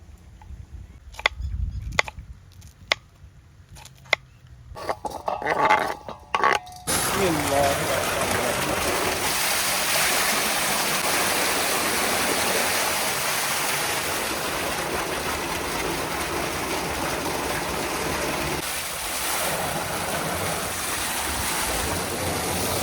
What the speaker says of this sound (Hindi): टमाटर और सब्ज़ मिर्च को ना वॉश कर लेंगे